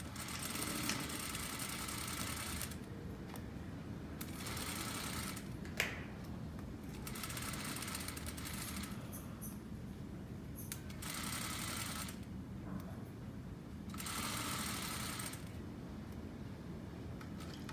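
A sewing machine stitches a quilt lining at a quarter-inch seam in several bursts of rapid, steady whirring, separated by short pauses, close and moderately loud, with no talking.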